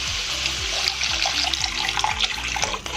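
Water poured steadily into a pan of brinjal gravy, giving a continuous close splashing, gushing rush over about three seconds with no talking.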